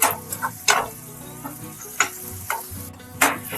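Tomatoes sautéing on full flame for pasta, a steady close sizzle with a few sharp clicks and scrapes of stirring.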